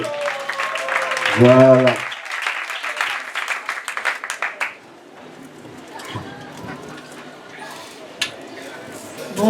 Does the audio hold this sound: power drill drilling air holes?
no